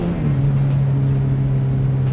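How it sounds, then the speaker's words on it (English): A turbocharged, high-compression 1.6-litre Miata engine revs hard in a steady loud drone with a brief stumble of misfire near the start, then holds its pitch for about two seconds. "A little bit of a misfire there."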